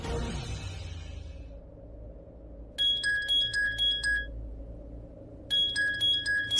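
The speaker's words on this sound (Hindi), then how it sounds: "प्राची को फोन मिला था" A telephone rings in a Hindi TV drama scene, two bursts of bright electronic trilling over a low background hum, with a quiet stretch between them.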